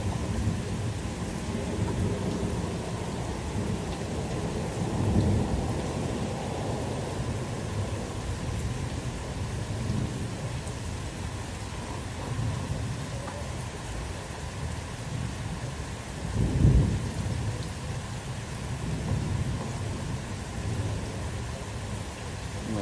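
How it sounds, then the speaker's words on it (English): Steady heavy rain with deep rolls of thunder during an afternoon thunderstorm in Troy, Illinois, one loud nearby boom building and fading toward the end. "there's more really loud thunder on the way"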